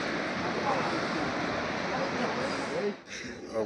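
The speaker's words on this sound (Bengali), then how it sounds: "আর এই যে পাশ থেকে সমুদ্র সাউন্ড আসছে।" Sea waves wash onto Tajpur beach at night in a continuous breaking rush, with wind noise and nearby voices talking over it.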